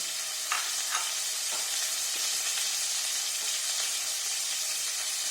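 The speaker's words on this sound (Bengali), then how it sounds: "অল্প একটু নুন দিয়ে এবার চিকেনটা এই তেলের মধ্যেই আমি এদিক ওদিক করে লাল করে ঢেকে ঢেকে" Chicken pieces with chopped garlic fry in hot oil in a pan, giving a steady bright sizzle throughout, with a few soft scrapes and stirring knocks along the way.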